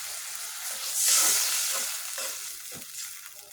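Dried fish (shutki) fries in a pan as a little gravy goes in, making a brief, rising burst of sizzle that fades back, followed by a few soft scraping stirs.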